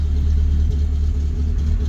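A Rover 25 GTI engine running at a rough, high idle with a stutter, a steady low rumble that wavers unevenly, close and loud with no talk.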